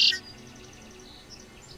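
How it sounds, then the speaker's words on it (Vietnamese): A small bird chirps outdoors in a rural Vietnamese reed-field setting, a brief bright call at the start followed by faint, distant tweets over soft ambient hiss. "Con chim kìa."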